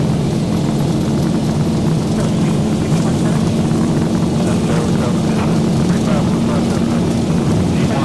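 Airliner engines roaring steadily through the takeoff roll in X-Plane 12, an Air France flight with the Zibo Mod, a loud constant drone from start to finish with a pilot's voice partly over it.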